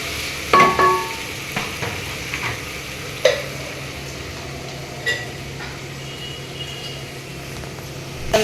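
Onions frying in oil for khara bath upma, a steady soft sizzle with a few sharp clinks and stirring scrapes from the pan, close and alone with no talking.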